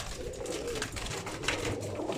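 Pigeons coo softly in a steady low murmur, with rustling and flutter mixed in throughout, close by and moderately loud.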